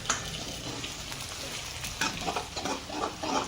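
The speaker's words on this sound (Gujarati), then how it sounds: "વઘાર થઈ ગયો હે" Tempering oil sizzles and crackles in a pan at a wedding cooking setup while a spoon stirs it, with busy scraping and clattering that grows louder toward the end, no talk.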